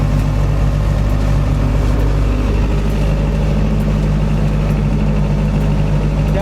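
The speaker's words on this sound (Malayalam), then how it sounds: "ഇതാണ് ഈ ബോട്ടിന്റെ ജനറേറ്റർ." A diesel generator aboard a boat runs steadily and loudly close by, a constant low engine drone with a stable hum and no breaks in the rhythm.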